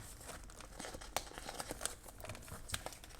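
Sticker sheets flip and crinkle while being sorted through for planner stickers, a series of soft, close papery rustles with a few sharper crackles.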